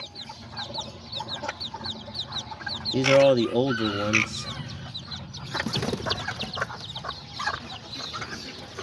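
Hens cluck and chatter in a farmyard, quick soft clucks running throughout with a louder burst of calls, while a person talks briefly over them.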